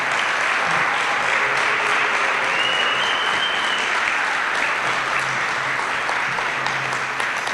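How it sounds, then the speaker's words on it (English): A crowd applauds the inductees at the 2023 New Albany High School Hall of Fame induction ceremony, with loud, sustained clapping and a few faint cheers mixed in, holding steady throughout. "How about a big round of applause for all of our inductees?"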